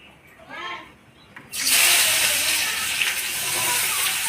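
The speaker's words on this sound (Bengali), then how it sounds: "এবার আমি পেঁয়াজগুলো দিয়ে দেবো" Onions tipped into hot oil for a fish curry burst into a loud, sustained hissing sizzle that stays strong to the end, after a brief moment of quieter sounds and a faint voice beforehand.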